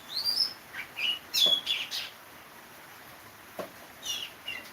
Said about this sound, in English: We'll have a little bird speaking his voice as well.